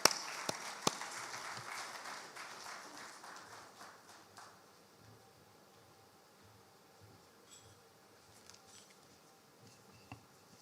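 Audience applause at a Bank of Ghana event welcomes the head of banking supervision to the stage, a dense patter of claps that thins and fades after a few seconds, leaving faint scattered claps.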